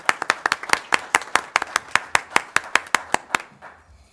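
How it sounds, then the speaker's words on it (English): Audience at a board of education meeting claps for several seconds, a steady run of distinct, fairly sparse handclaps that thin out and stop near the end. "applause for her"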